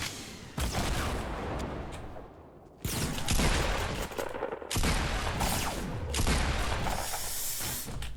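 Shotgun blasts in a Fortnite match crack out in bursts, with several loud, close shots separated by brief gaps and hissy game ambience underneath.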